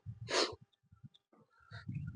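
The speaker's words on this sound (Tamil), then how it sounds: "சத்தியமா சொல்றேன், மூச்சு வாங்குது." Heavy, rapid breathing of hikers winded partway up a steep mountain trek, a loud burst of breath followed by softer gasps and then renewed panting, close and without speech.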